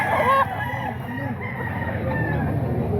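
A white Kelso gamefowl rooster crows close by in a drawn-out call, with clucking fowl and some background voices mixed in.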